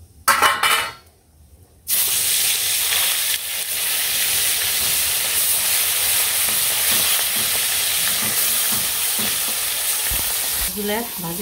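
Mustard tempering hits hot oil with a sudden loud burst of frying, then a steady close sizzle and hiss continues with occasional stirring taps, ending with faint clatter.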